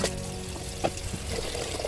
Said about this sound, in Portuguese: Coloquei água na panela de pressão.